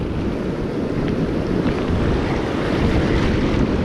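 Ocean surf on the Oregon coast, with swells of 3 to 5 feet, roars as a loud, steady wash of breaking waves and wind noise that carries on without a break.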